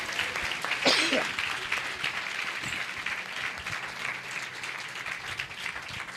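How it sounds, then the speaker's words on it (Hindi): A church congregation claps in thanks to God during a Hindi-language sermon, with a loud burst of applause near the start that settles into a steady patter under ambient murmur and voices. "ताली बजाकर प्रभु को धन्यवाद दीजिए।"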